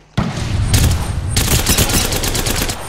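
Gunfire in the video game Apex Legends with Havoc and Mastiff weapons, loud dense rapid bursts of automatic shots and booms, close and continuous, swelling into a sustained fusillade.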